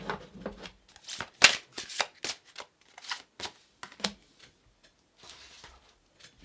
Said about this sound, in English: I always shuffle them good before I start.